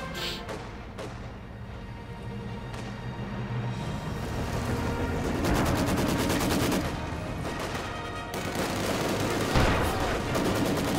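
Machine gun fire and other weapons in a Company of Heroes 2 multiplayer battle, with rapid bursts, scattered shots and a deep boom rising over a dense, continuous wash of battle noise.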